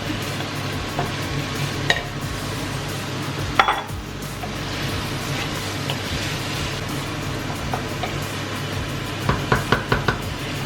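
Bell peppers go into a pan of softened onions for chicken tortillas and wraps, then a steady sizzle of frying under repeated stirring scrapes and utensil knocks against the pan, close up, with no talking.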